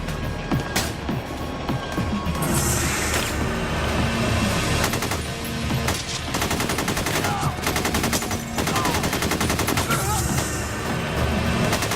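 Rapid bursts of gunfire crackle through a western film shootout, loud and close, with sharp repeated shots and echoing volleys, voices heard between the bursts.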